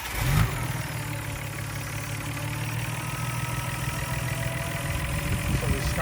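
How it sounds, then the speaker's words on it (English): Nissan Skyline R32 GT-R engine with heavy carbon buildup turning over with a brief start burst, then settling into a steady, loud, close idle that holds evenly throughout. "So we're going to start up the engine on this GTR."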